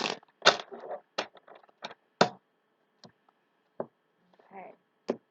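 A tarot card deck being shuffled, giving a series of quick crisp riffling and tapping bursts, loud and close, with short pauses between them and no talk.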